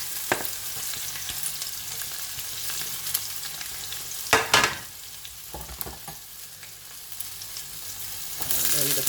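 Chopped onions fry in oil with a steady sizzle, broken by a few stirring scrapes and one loud burst of spatter midway, with no talk.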